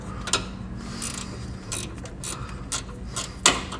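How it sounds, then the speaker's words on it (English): A ratcheting wrench working on a clamp of the hot-side intercooler pipe on an LML Duramax, giving a series of crisp ratchet clicks in short irregular bursts over a low steady hum, close up, with no talk. "I don't know whether or not I need to use a ratcheting wrench"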